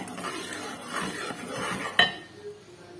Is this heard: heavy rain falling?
no